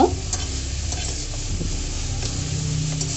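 Onions fry on high heat in a pan for an Odia cabbage and potato curry, giving a constant close sizzle with faint stirring scrapes throughout and no talking.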